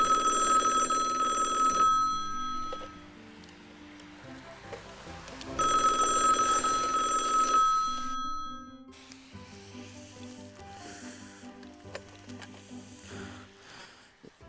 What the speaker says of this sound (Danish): Hvem i himlen ringer til mig nu?